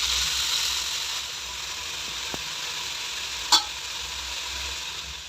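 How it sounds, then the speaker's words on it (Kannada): Sprouted gram frying in oil with onion, a steady close sizzle and hiss with a couple of sharp clicks from the spoon or pan, with no one talking. "ಕಾಳು ಹಾಕ್ಕೊಂಡು ಒಂದು 5ರಿಂದ 7 ನಿಮಿಷ ಒಂದು ಸ್ವಲ್ಪ ಫ್ರೈ ಆಗಲಿ ಎಣ್ಣೆ ಮತ್ತು ಈರುಳ್ಳಿ ಜೊತೆ"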